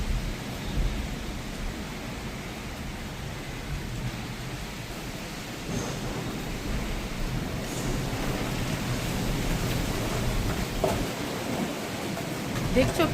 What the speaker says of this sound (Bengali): বাট প্রচন্ড ঝড় হচ্ছে।